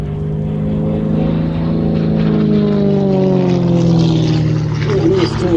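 An aerobatic propeller plane nicknamed Tigger rolls through the vertical at an air show, its engine a loud, steady drone with slowly shifting pitch as a commentator talks over it.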